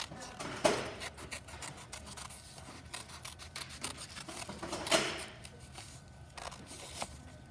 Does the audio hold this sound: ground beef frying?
no